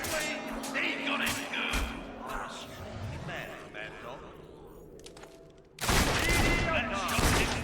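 Gunshots in the video game Fable, several sharp thumping shots early on, a quieter stretch, then a loud burst of rapid firing near the end, with a voice talking over parts of it.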